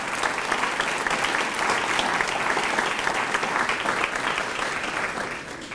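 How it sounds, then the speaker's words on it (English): An audience at a 2024 State of the Cities address claps steadily and loudly, a dense, continuous wash of applause that tapers slightly toward the end. "If you could give them a round of applause"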